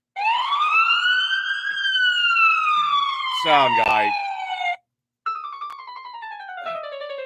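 A fire engine siren sound effect wails in loud, close, rising and falling sweeps, drops out for a moment, then resumes in a slightly different tone.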